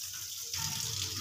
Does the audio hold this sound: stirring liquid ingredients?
no